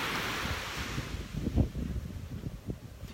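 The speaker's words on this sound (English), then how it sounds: "Oh, the waves sound so pretty today." Ocean surf washes onto a beach at sunrise, a steady broad rush of breaking waves with low wind rumble and occasional thumps, no voices.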